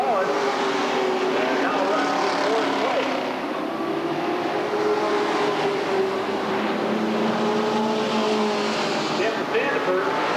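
Stock cars at Redwood Acres Raceway in 1989 race around an oval track, their engines roaring continuously and loudly with rising and falling pitch as the pack passes.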